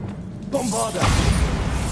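In Hogwarts Legacy, a voice shouts the Bombarda spell, and a loud, rumbling explosion follows and roars on to the end.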